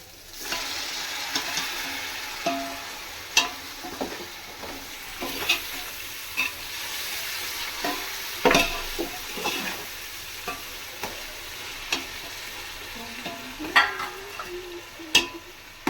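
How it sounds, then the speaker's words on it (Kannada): Tomatoes and masala frying in oil for a 1 kg chicken biryani, a steady soft sizzle broken by repeated sharp scrapes and knocks of a spoon against the pot, close and irregular, with no speech. "ಇದನ್ನು ಚೆನ್ನಾಗಿ ಫ್ರೈ ಮಾಡಿ ಎಲ್ಲನೂ ಚೆನ್ನಾಗಿ ಮಸಾಲೆ ಎಣ್ಣೆ ಎಲ್ಲ ಬಿಟ್ಟಿದೆ"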